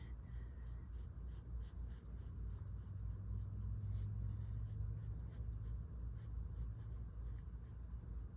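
A pencil scratches a line across a paper junk mail envelope in a faint, continuous rubbing stroke, close by and without speech.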